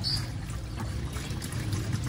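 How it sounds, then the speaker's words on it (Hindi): Water is poured into a gallon container for mixing bird medicine, a low gurgling, trickling pour that runs steadily at close range for a couple of seconds. "थोड़ा सा पानी डाल लेना दोस्तों गैलन में आपने सबसे पहले"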